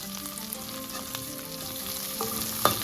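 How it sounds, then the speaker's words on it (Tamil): Onions with curry leaves and salt sauté in a pan for cauliflower poriyal, giving a steady near sizzle with faint stirring taps and a sharper clink near the end, no speech. "இதோட கொஞ்சம் உப்பும் சேர்த்து வதக்கிக்கலாம்."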